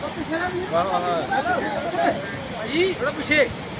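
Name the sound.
rushing floodwater through a 20-foot breach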